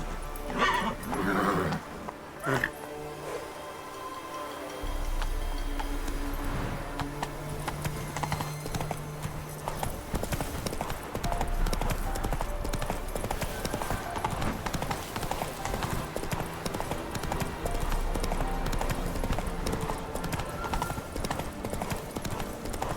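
Hoofbeats of a horse galloping in The Witcher 3 video game, a steady, loud clip-clop rhythm running nearly the whole time over game ambience, with a brief whinny near the start.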